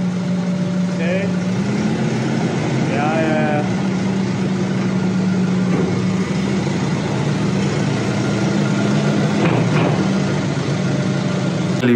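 A heavy tractor engine idles steadily throughout with a low, constant drone in snowy conditions, while people's voices come and go faintly over it.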